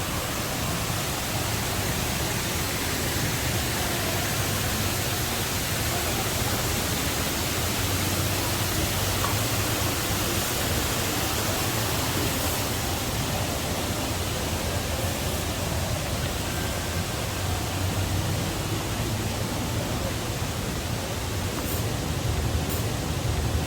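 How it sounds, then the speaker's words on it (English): Large indoor waterfall at a Bangkok shopping mall, a steady broadband rush of falling water filling the space continuously and evenly, with no voices over it. "So this is the big waterfall here between the EmSphere and the EmQuartier."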